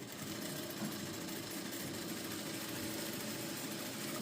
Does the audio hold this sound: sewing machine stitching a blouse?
yes